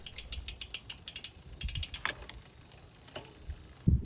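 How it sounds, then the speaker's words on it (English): Front shifter of a Trek Domane road bike being worked on a stand, a run of quick close mechanical ticks and clicks in a steady rhythm, then a pause and a few scattered clicks with a thump at the end. "Then run through the front shifter and make sure everything is working properly."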